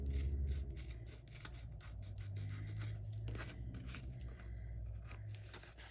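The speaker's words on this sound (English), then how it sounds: "now we're just going to take our scissors and cut off any extra hangover." Scissors snipping away excess card stock overhanging a handmade greeting card, a run of short scratchy cuts at close range with faint background hum.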